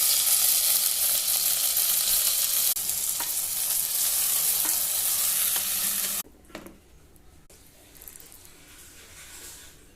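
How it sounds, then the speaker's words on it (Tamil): A hot tempering of curry leaves and asafoetida is stirred into Iyer-style ven pongal. A loud, steady sizzle runs for about six seconds, then drops abruptly to a softer hiss with light stirring. "நம்ம தாளிப்பை இதில் சேர்த்துக்கலாம்."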